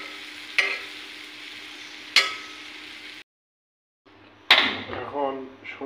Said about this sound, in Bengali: বেশিক্ষণ ভাজলে মাছগুলো শক্ত হয়ে যাবে, এই জন্য বেশি ভাজবো না